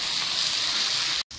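Jackfruit pieces sauté in a hot pan, giving a dense, even sizzle that holds loud and steady before a brief drop to silence near the end.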